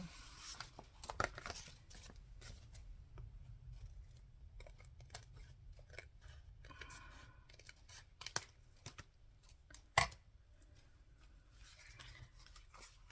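Red wallpaper being cut for a small handmade journal, heard as faint, quiet snips and paper rustles scattered irregularly against a low background hum, with one sharper click near the end.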